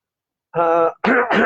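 A man clears his throat, followed by two rough coughs from a lingering cold in quick succession, close and fairly loud, with no talking.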